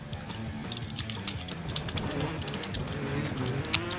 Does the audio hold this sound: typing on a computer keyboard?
yes